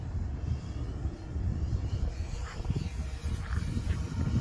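A radio-controlled General Hobby B-17 Flying Fortress model with an 1875 mm wingspan drones through the air. Its engines make a steady, rumbling hum mixed with wind buffeting, holding at a moderate level with slight swells.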